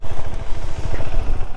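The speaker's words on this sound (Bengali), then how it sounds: "একটু দাঁড়িয়ে ক্লাচকে আমাদের রেস দিতে হবে।" A motorcycle engine is revved in short pulses while held at the clutch during a stop on a mountain road to Kalipokhari, sounding close and loud with a throbbing low exhaust note.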